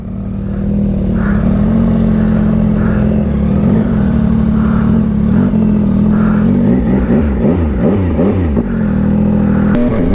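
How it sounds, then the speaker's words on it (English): A 2024 Yamaha XSR 900 with a Kelpie exhaust idles loud and close, then revs in repeated rising and falling blips with a throaty rumble. "That Kelpie exhaust sounds so good."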